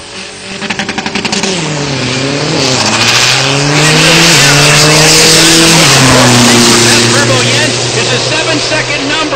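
A small Isuzu pickup truck from Thailand makes a drag strip run at Texas Motorplex, the engine screaming loudly with rising revs and sharp gear-change drops over several seconds, with a commentator talking over it.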